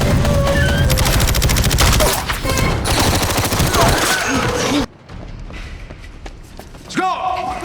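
Loud, dense bursts of automatic gunfire and heavy impacts from an Expendables 3 action movie fight scene, rapid volleys that suddenly drop away and then resume in short shots.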